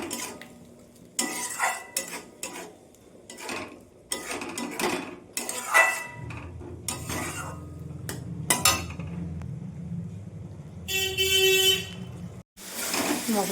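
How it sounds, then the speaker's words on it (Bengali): Spice paste (masala) fries and is stirred in a pan, with metallic scrapes and clinks of a utensil against the pan over a low continuous sizzle, and a car horn sounds briefly outside. "এবার মশলাটা আমি ভালো করে কষিয়ে নেব।"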